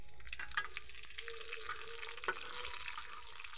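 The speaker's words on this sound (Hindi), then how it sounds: "हरी मिर्च डाल के मैंने इसे चला दिया है।" Chickpea curry (chole) with cumin and green chilli sizzles in a pan while a spoon stirs and scrapes through it, a steady close frying hiss with a couple of sharper knocks, no talk.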